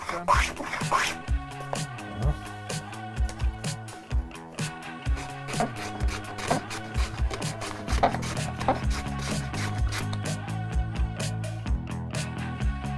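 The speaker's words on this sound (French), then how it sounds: "Nous allons découper ces pièces grossièrement sciées de manière à ce que les bords soient bien droits" Roughly sawn wood pieces are cut to straighten their edges for an incense burner, giving a run of close, repeated scraping and rasping strokes in an uneven rhythm, with some quiet talk in the background.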